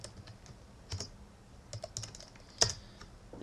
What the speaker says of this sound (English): So I'll just type in this command here.